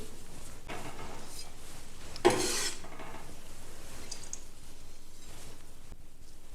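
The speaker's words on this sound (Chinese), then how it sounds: "接下来把胡萝卜也给它擦成细丝" A carrot rubbed over a grater into fine shreds gives a steady, close scraping rasp with one sharp knock partway through, and nobody talks.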